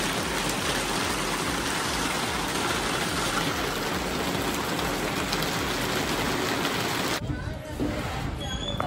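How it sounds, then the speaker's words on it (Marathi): Heavy rain pours outdoors in a dense, loud, continuous patter close by, cut off abruptly near the end, followed by quieter background sound. "बाहेर आलोय, बघतोय पाऊस चालू झाला"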